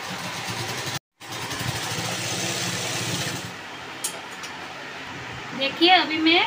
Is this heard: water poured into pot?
no